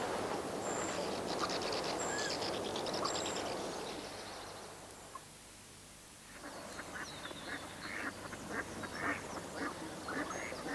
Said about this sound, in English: Tufted duck.